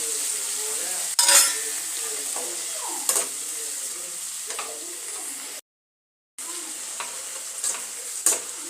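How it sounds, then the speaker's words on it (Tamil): Tomatoes sautéing in a pan for a home-style prawn curry, a steady soft sizzle with occasional sharp clinks of a spoon against the pan and a brief gap of silence partway through. "நம்ம வந்து தக்காளி போட்டுக்கலாம்"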